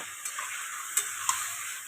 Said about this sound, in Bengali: আমি এটা একসাথে নাড়াচাড়া করবো